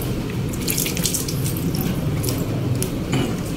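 Running water pours steadily into a sink as something is washed, a continuous close splashing flow with brief drips and clatters throughout and no talking.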